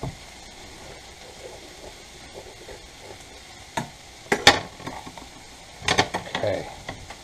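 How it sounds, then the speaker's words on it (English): A spoon stirs stuffed pepper filling in a pan, giving a quiet, low sizzle with a few sharper scrapes and clicks of utensil on metal near the end. "Gotta keep stirring this."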